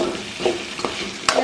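Onions for samosa filling frying in a pan, with a close soft sizzle broken by a few quick scraping stirs, the last one sharper.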